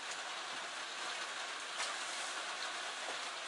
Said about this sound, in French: la pluie s'invite chez nous encore et toujours